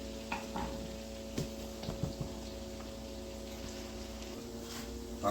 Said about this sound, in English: Now you're scraping everything that was stuck to it.